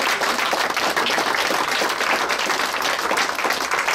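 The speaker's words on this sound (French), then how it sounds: "on peut clairement vous dire un merci puis vous partager une belle main d'applaudissements." Audience applause at a 50th anniversary celebration evening, loud sustained clapping from a large crowd, dense and continuous without a break.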